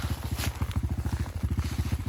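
An enduro motorcycle engine idles nearby with a fast, even pulsing thump. It stays steady and fairly loud through the whole clip, with no one speaking over it.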